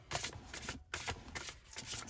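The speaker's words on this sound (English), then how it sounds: "I'm dropping cards before I'm even shuffling them." A deck of tarot cards is riffled and shuffled close up in quick, crisp bursts of papery fluttering, with short gaps between them and nobody speaking.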